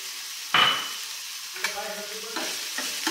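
Thecha, a crushed green chili paste, fries in a pan on low heat for samosa filling. A soft steady sizzle is broken by a few sharp stirring scrapes and clinks close by.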